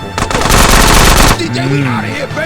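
Sustained, loud rapid-fire gunfire in GTA San Andreas, a continuous automatic burst of over a second that cuts off abruptly into quieter game ambience.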